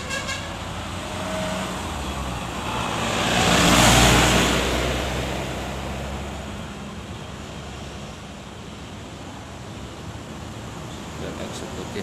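A Bintang Utara Sultan bus arriving at a terminal stop, its engine and road noise swelling to a peak near the middle before easing into a steady rumble with faint background ambience.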